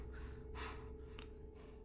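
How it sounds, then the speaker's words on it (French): Heavy gasping breaths of a player character winded after running in the zombie game Dying Light, a sharp inhale burst in the middle and a smaller catch near the end, close and alone over a low steady hum. "On s'est un peu essoufflé."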